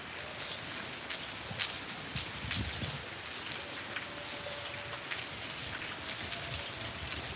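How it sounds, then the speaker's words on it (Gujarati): Steady rain falls over villages in Devbhumi Dwarka, with water pooling in the fields: a continuous dense hiss of drops on surfaces, even and unbroken throughout, with no voices. "એના ગામડાઓમાં સતત વરસાદ ચાલુ છે"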